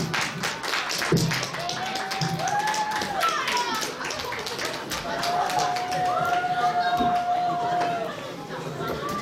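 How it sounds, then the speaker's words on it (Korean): Dense applause from a school audience at a Seoul foreign-language high school chapel service, steady and sustained for several seconds, mixed with scattered cheers, whistles and voices throughout. "우리 다 같이 큰 박수로 청해 드릴까요?"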